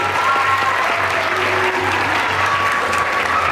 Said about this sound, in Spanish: Quiero escuchar el aplauso de todos los presentes.